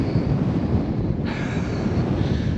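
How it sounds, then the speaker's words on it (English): Very strong wind buffets the microphone on an exposed sand dune on Moreton Island, a continuous heavy low roar with constant rumbling gusts and no break, close and loud with no talking. "I haven't been in wind this strong"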